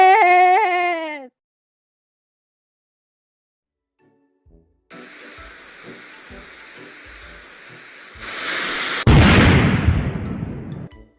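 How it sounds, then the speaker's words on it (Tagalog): Firecrackers go off in a cartoon scene of Filipino December festivities: a burst of crackling pops and bangs follows a whiny voice and a pause, ending in a loud, dense blast that fades out. "narinig kasi namin yung paputok mo kaya pumunta kami dito"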